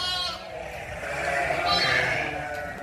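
Sheep bleating at an animal farm, several wavering calls close by, one early and a louder one in the latter half, under a low background of farmyard noise.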